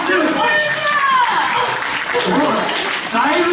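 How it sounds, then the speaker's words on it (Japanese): An audience at a Kumamon quiz show at Josaien's Wakuwaku-za applauds, clapping steadily under loud speech. "素晴らしい、 拍手"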